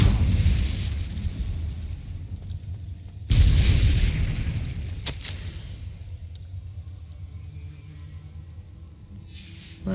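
A Confringo blasting spell going off in the Hogwarts Legacy video game: a few sharp, loud booms with rumbling tails, the biggest near the middle, over low game ambience.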